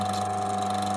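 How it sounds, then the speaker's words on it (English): Old washing machine motor with new bearings running on a bench, a steady mechanical hum with a faint, slight chattering, brief and fairly quiet. "That's the noise of the motor."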